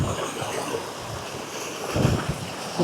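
River water rushing continuously nearby during a long-distance walk near Tanjung Malim, a broad steady wash with some wind noise on the microphone.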